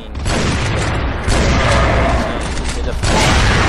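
Loud, booming bursts from the Barrett Royal Dragon cannon in a zombie shooter game roll over one another in heavy, continuous volleys, with fresh blasts hitting around the middle and near the end while a voice talks underneath.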